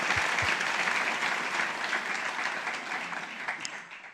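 Applause from an audience at an international forum panel on women, a sustained, even round of clapping from many hands that gradually softens toward the end.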